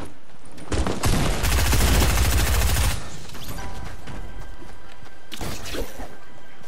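Rapid automatic gunfire from a mobile shooter video game, a dense loud burst lasting about two seconds, then quieter game ambience with a few scattered softer shots.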